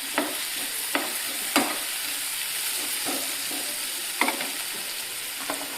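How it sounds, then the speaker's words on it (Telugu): Dry anchovies frying in a pan with crushed ginger and garlic are stirred, giving a steady sizzle with several sharp scraping strokes of a utensil at irregular intervals. "వేసుకొని కొంచెం కలుపుకోవాలి."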